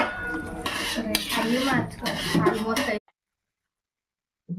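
Chicken curry is stirred in a metal pot, the spoon clinking and scraping against the metal under steady talk for about three seconds before the sound cuts to silence.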